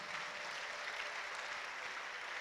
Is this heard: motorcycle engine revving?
no